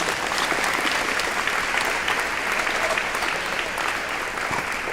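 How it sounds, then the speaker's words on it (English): An audience at a military ceremonial review and change of command ceremony applauding: dense, loud, sustained clapping from a large crowd, steady for the whole stretch. "So let's give them a round of applause."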